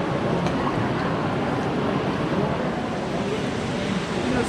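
A broad, constant roar of rushing water from a waterfall inside a cave in Belize fills the space evenly, loud and unbroken, close by.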